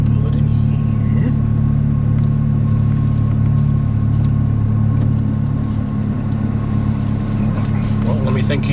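A Mazdaspeed3 engine rumbles steadily at low speed from inside the car, a constant droning hum with slight variations as it pulls in.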